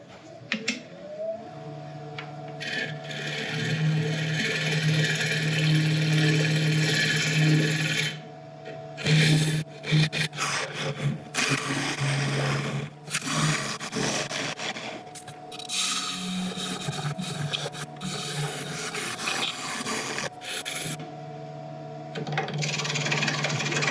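Hollowing a resin woodturning piece on a lathe: a continuous close scraping and rubbing of the cutting tool over a steady motor hum, with short pauses in the cut around the middle.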